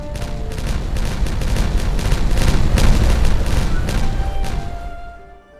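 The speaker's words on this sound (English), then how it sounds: "we're going to have to detonate this. Explodification, commence!" Terrain is detonated in the Timberborn building game, a loud close rolling barrage of rapid booms and crackling blasts for several seconds before it dies away.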